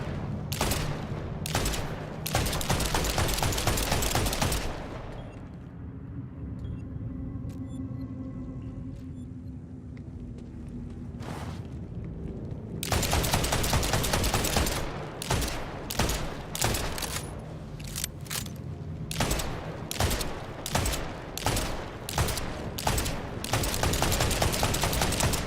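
Rapid, loud bursts of shotgun fire in Borderlands 4, volleys of dense blasts packed together with a brief quieter lull of game ambience in the middle before the shooting resumes.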